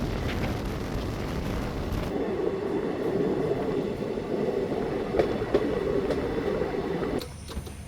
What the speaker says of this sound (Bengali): আমাদের ট্রেন নাগাল্যান্ড এক্সপ্রেস আসামের সবুজ প্রকৃতির মধ্যে দিয়ে এঁকে বেঁকে নিজের গন্তব্য পথে এগিয়ে চলেছে।